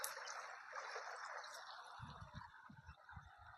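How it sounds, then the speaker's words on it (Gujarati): Clear water of the Rupen river in Gujarat rushes past in a steady, close hiss, with low irregular thumps joining in the second half. "અને આ નદીનો અવાજ પણ કેવો મસ્ત છે"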